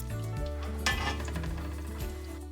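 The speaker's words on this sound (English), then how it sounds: "put my beef inside to fry" Beef frying in oil in a pot while cooking Ghanaian party jollof: a steady close sizzle runs throughout, with a brief metallic clink of a utensil against the pot partway through.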